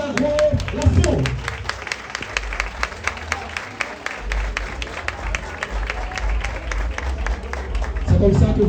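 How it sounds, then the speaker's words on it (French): A crowd claps and cheers steadily for the newly crowned champion at the 8th edition of the House of Challenge competition. Dense, sustained applause fills the room, with a voice speaking over it at the start and again near the end. "Levez-vous et applaudissez chaleureusement notre championne."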